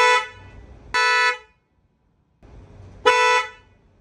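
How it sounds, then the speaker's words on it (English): A stock horn on a 2004-2008 Acura TSX honks twice, two short flat beeps separated by a pause, close and clear with quiet engine hum between them. "the way this horn sounds, no one's taking me seriously on the road"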